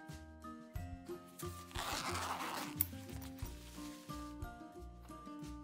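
A zipper slides along a zippered carrying case for Wii games, its pull tab shaped like a Wii remote, giving a soft close rasp among faint handling rustles and clicks.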